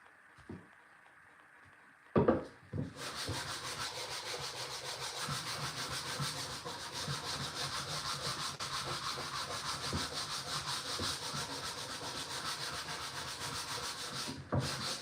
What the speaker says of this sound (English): We're just going to hand sand because I don't want to damage too much of this integrity behind things here